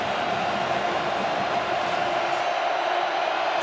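A large stadium crowd at a Utah vs. Arizona State college football game roars in a dense, steady wash of noise that stays loud and unbroken throughout.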